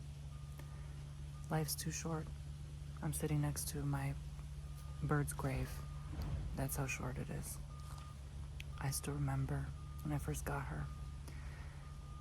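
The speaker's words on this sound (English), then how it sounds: "I apologize about the beeping. I didn't think they would be doing construction now." Distant construction truck reversing beeps sound in a steady repeating pattern from somewhere outdoors, faint behind a close voice talking calmly over a low hum.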